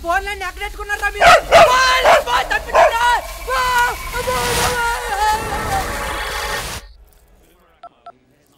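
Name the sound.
dogs barking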